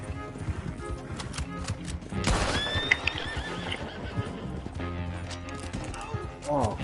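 A horse in a PS4 video game neighs loudly with a long whinny, surrounded by clip-clopping hooves and game audio, with voices talking over parts of it.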